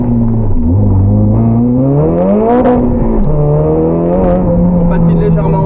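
A 400 hp Honda Civic accelerating hard on a road with slight wheelspin, its loud engine climbing in pitch through the revs and dropping at a gearshift, close and dominant.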